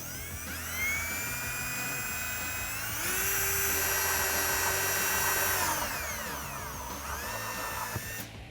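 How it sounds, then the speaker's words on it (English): A power drill with a 3/4 inch step bit bores a hole through a 2018-2019 Mustang battery cover, its motor whining steadily and rising in pitch under load, then winding down as it slows and stops. "You want to put this on your drill and you can get to work."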